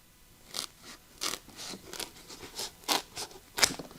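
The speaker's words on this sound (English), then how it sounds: "This stuff cuts really easily with scissors." Kitchen shears snip through material for a homemade lithium battery case, making a series of about a dozen crisp, close crunching cuts in an uneven rhythm.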